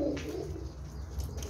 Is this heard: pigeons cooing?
yes